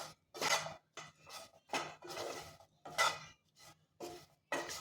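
A spoon scrapes and clinks in a pan while spiced green pea filling for paratha is mixed, rhythmic bursts of scraping at roughly half-second intervals, close and fairly quiet.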